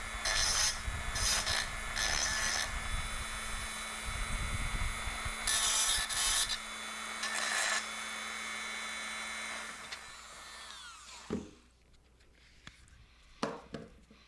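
Sharp edges of an aircraft nose rib are deburred with a hand file in repeated bursts of rasping strokes, followed by a quieter stretch with a few isolated scrapes and taps.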